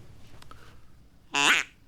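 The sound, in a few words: duck quack imitated by sound-effect device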